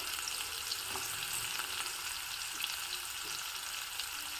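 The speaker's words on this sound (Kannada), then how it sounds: "ಈಗ ಇದಕ್ಕೆ ನಾನು ಸಣ್ಣದಾಗಿ ಹೆಚ್ಚಿಟ್ಕೊಂಡಿರೋ ಈರುಳ್ಳಿಯನ್ನ ಹಾಕ್ತಾ ಇದ್ದೀನಿ" Finely chopped onion, one medium onion, fries in hot tempering oil for a rice dish, giving a steady, close, crackling sizzle with light stirring scrapes throughout; no one talks.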